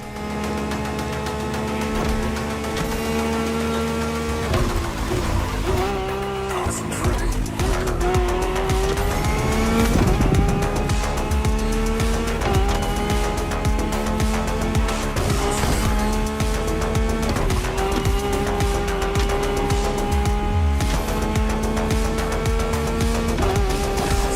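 Race cars in The Crew Motorfest video game roar loudly with engines rising and falling through gear changes, while tires squeal and skid repeatedly across a long stretch of hard driving.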